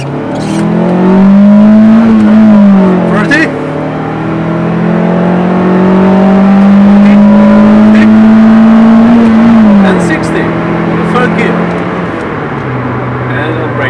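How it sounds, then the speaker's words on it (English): A Mitsubishi Colt (Mirage) engine revs up hard during a 0 to 60 run, climbing through the gears, loud and close, with a brief drop between shifts before pulling again. "Now let's test 0 to 60 time."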